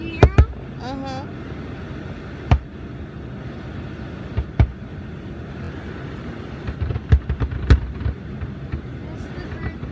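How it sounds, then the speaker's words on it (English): Fourth of July fireworks bursting in the distance, a few scattered faint booms and crackles spread across the stretch under a steady outdoor hum, with people talking nearby. "there are fireworks over there"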